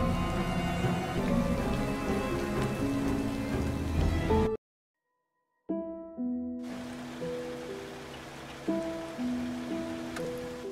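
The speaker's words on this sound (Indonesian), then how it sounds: "gerimis yang sedikit lebih keras mengguyur daratannya yang tengah dilanda kepekatan malam kala itu" Steady rain falling at night over a village, a dense continuous hiss of drops with a tonal music bed underneath, cutting out briefly to near silence before resuming just as loud.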